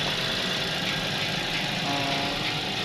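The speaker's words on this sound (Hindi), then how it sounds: "गाड़ी आइडल पे अल्हम्दुलिल्लाह स्मूथ खड़ी है" Suzuki Wagon R three-cylinder engine idling smoothly, a steady, close, even mechanical hum and rumble with no change in pitch across the short stretch.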